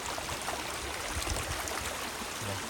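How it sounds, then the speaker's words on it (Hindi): Waterfall flowing down from the hills at Matheran, a steady broadband rush of falling water with low rumbling undertones, continuous and fairly close, with no talking over it. "अब आवाज क्लियर आ रही होगी आपको झरने की,"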